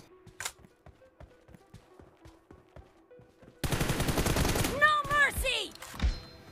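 Gunfire in PUBG starts with sparse, faint clicks and thuds, then breaks into a loud, rapid burst of automatic shots with ringing, whistling tails. No one speaks.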